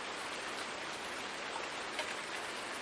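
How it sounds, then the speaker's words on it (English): Steady rain pours down in a Farming Simulator 19 game set on a warm, muggy day, a dense, even hiss of falling water with no breaks, moderately loud and heard alone. "Kind of warm rain today."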